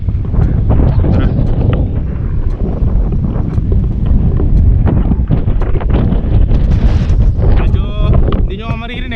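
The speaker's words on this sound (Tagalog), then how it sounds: "Hindi nyo maririnig dahil napakalakas ng hangin dito guys" Strong wind in Tagaytay, Philippines, buffets the microphone with loud, constant rumbling and rustling, and a voice speaks briefly at the end.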